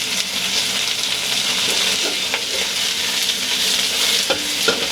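Fresh corn kernels sizzle and crackle steadily in a hot pan over high heat, with occasional sharp pops and scraping stirs throughout.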